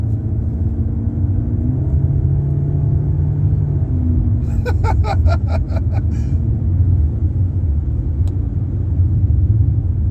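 A 2020 Mitsubishi Eclipse Cross turbo engine with an automatic gearbox runs as a low, steady rumbling hum nearby. Brief high chirping sounds over it in the middle, and a short click comes near the end.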